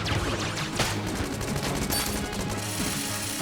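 Wind-up charging gun firing in Enter the Gungeon, a rapid stream of shots layered over steady game music and effects, loud and continuous throughout.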